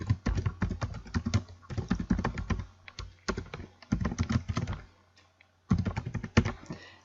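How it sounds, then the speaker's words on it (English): Rapid bursts of typing on a computer keyboard entering a title, close and crisp, coming in several runs separated by short pauses. "you just type in the title that you would like to use"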